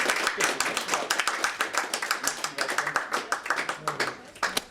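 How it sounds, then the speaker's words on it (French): Audience at a poetry event in Burgundy applauding the poets: a small crowd clapping, individual claps distinct and rhythmic, fairly quiet, with some talk mixed in. "On peut les applaudir, tous les deux aussi, et tous les trois."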